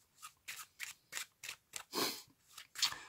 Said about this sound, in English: the pack gets shuffled.